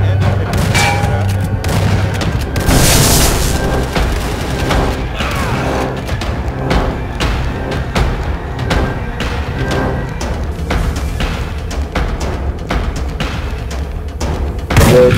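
Shotgun blasts from the video game Dead Effect 2 crack and boom in rapid irregular bursts, with dense explosive thumps layered over other game sounds throughout.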